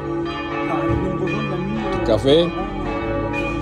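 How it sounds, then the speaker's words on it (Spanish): Church bells ringing in Brantôme, France, their sustained tones and overlapping hum carrying under a person talking nearby. "las campanas"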